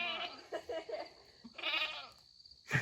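Goats in a farm pen bleat close by in several wavering cries with short pauses between them, and one sharp bleat comes at the end.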